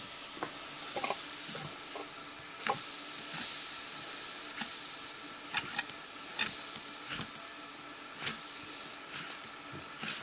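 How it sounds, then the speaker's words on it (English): Steam from a small espresso machine hisses steadily at low volume, broken by scattered clicks and small sharp pops. "Got steam from a little espresso machine."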